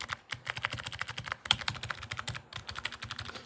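Typing on a MOFII wireless membrane numeric keypad with 18 keys, producing a steady run of quick, close soft key clicks in an even rhythm, heard alone.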